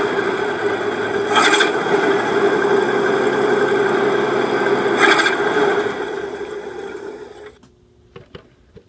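A 1974 Ford V8 runs steadily at a loud, close idle with a rough mechanical rasp, swelling in two brief revs before cutting off near the end, leaving faint clicks.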